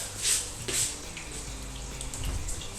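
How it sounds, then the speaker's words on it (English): Faint splashing and spraying water with hissy bursts and soft knocks, like a keg being rinsed out nearby. "That's the noise of the keg washer"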